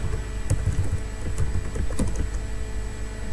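Rapid, irregular clatter of keys as code is typed on a computer keyboard, close and steady throughout with no talking.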